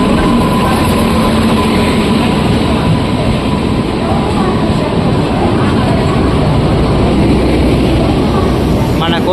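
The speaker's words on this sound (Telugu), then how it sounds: "మనం వెళ్ళే ట్రైన్ అయితే వచ్చేసింది చెన్నై సెంట్రల్ ట్రైన్." A Chennai Central train pulls into a railway station platform, a loud continuous rumble and roar of the approaching train with steady engine and wheel noise throughout.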